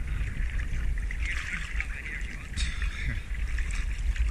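A boat motor runs during spearfishing for snapper off New Zealand, a steady low drone beneath nearby water splashing and trickling, with one sharp knock partway through.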